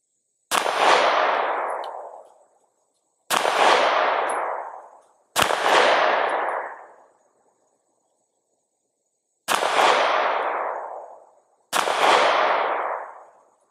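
Five loud single gunshots from a Springfield Armory Hellcat Pro Comp OSP pistol, spaced a few seconds apart with irregular gaps, each a sharp crack followed by a ringing decay.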